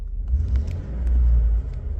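A 2013 Ford F-150 engine with low oil pressure gets a brief rev, a low rumbling swell that rises and eases back within a couple of seconds, with no voices.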